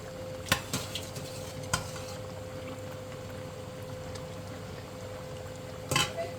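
Chicken curry in a tomato sauce mix is stirred in a pan: a soft, steady simmering hiss under a few sharp spoon scrapes and taps against the pan, close and fairly quiet.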